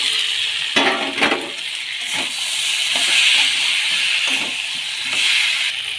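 Prawn legs and pointed gourd, already fried, drop into a hot pan of potatoes and set off a steady loud sizzle and hiss, with a few clinks and scrapes near the start.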